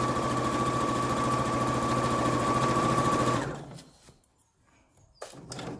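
A sewing machine stitches steadily over the French side seams of a fabric scrub bag, humming loud and close for about three seconds before stopping, followed by a few faint clicks and handling noises.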